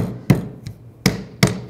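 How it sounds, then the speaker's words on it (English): A hammer strikes the rusty rear shock absorber base on a 2007–2013 BMW 328i, giving three sharp metallic blows and one fainter tap in an uneven rhythm, close and loud with no talking. "Now for the base, just take a hammer."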